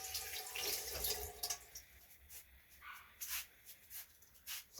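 Dropped food is rinsed under a running kitchen tap, giving a faint trickle and splash with intermittent bursts of water flow and a few drips, fairly quiet and uneven.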